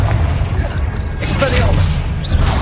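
Booming, rumbling blasts from the Confringo blasting spell in the Hogwarts Legacy video game, with heavy low-end thuds overlapping in a continuous, loud wash of combat noise.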